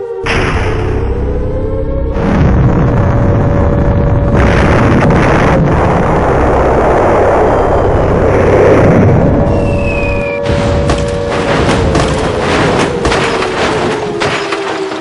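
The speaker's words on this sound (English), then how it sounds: "As the bombs were falling quite close, I felt it imperative that I move on." Bombs falling and exploding close by during an air raid, heavy continuous booming and rumbling with deep thuds, loud and sustained, with a sharp crackling burst near the end and no talk.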